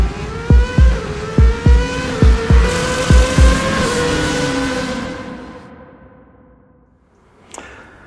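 ZCars Hillman Imp with a 16v turbo engine making 300hp, heard as a series of rapid sharp revving blips and gear-change pops, then a long descending engine note fading into the distance, with a brief click near the end.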